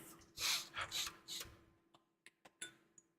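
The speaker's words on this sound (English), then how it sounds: "Ready to sniff? A sniff." Several short nasal sniffs at a glass of whisky, a few loud breathy inhales followed by quieter, sharper sniffs, close up in a quiet room with no talking.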